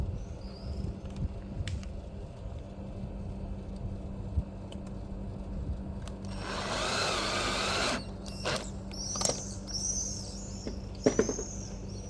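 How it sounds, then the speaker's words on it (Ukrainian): Power screwdriver driving a self-tapping screw into a roller blind box during installation of a rolling insect screen, heard as one loud burst of whirring lasting about a second, followed by a few short clicks and squeaks. "Короб підіймаю аж до гори і закручую перший верхній саморіз."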